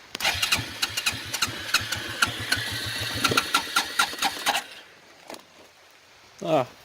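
A 1992 Quadrunner 300 ATV engine is cranked on a cold start with no choke, a loud rapid chugging that runs for about four seconds and then dies without catching, followed by a brief voice.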